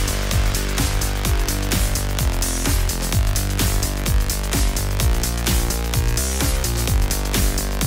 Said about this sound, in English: let me show you this beat that I've made for this tutorial